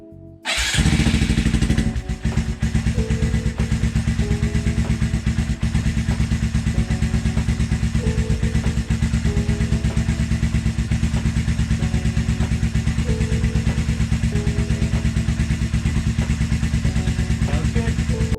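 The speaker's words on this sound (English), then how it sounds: "it's starting to have a very prominent buzzing sound, and it's worrying me a little bit" Honda Grom motorcycle engine idling steadily after a start, with a prominent buzzing drone and rapid rhythmic clatter throughout, loud and close, no talking.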